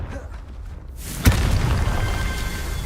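A Confringo spell explosion in Hogwarts Legacy lands as a single sharp boom after a quiet moment, followed by a rumbling, crackling tail.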